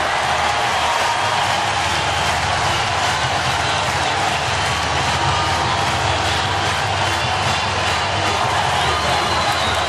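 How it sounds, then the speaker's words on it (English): Dense crowd of Auburn football fans cheering and roaring after a field goal as time runs out in a 2010 game against Clemson, a loud, steady wall of stadium noise for the whole stretch. "Brings a cheer from their fans."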